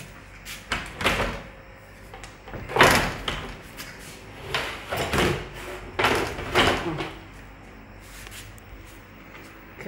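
An apartment's bathroom door being handled, giving several knocks, thuds and sliding rattles in irregular bursts at close range, with brief quiet gaps between them.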